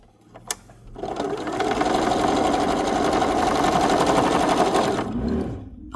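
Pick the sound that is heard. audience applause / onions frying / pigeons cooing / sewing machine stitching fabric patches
sewing machine stitching fabric patches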